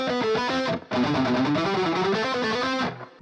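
Distorted electric guitar plays a rapid shred pattern in B Phrygian, a dense stream of fast picked notes with a brief break near the start, loud and alone.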